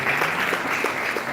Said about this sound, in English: Please let's applaud her.